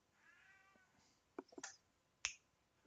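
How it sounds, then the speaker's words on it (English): A pet cat gives a soft, drawn-out meow, then a few quick, sharper cries, all faint and close in an otherwise quiet room. "My cat came down with a toy. She wants me to play with her."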